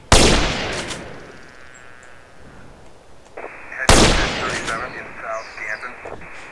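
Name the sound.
Hello Kitty chrome sniper gunfire in video game GTA San Andreas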